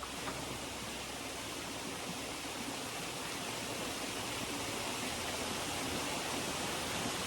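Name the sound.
waterfall below a swinging bridge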